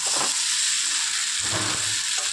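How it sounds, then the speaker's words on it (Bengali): Pointed gourd with prawns and spices sizzles in a frying pan in a steady hiss, with a few soft stirring scrapes breaking through. "ভালো করে নাড়াচাড়া করবে যাতে মশলাটা খুব সবজির গায়ে লেগে যায়"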